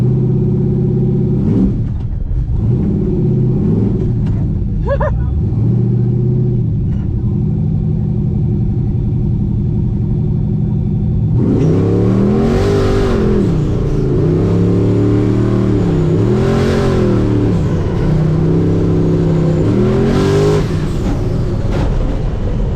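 Turbocharged LS-powered Chevy Nova drag racing on a frozen ice track, its engine roaring loud and close, revving up in rising and falling sweeps with a heavy low rumble throughout.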